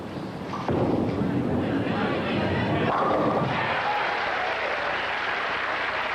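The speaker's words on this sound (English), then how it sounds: "getting plenty of cheering from his family here" Family members cheering and applauding at a professional bowling tournament, a loud burst of clapping and shouting that rises suddenly and stays dense, with a commentator's voice talking over it.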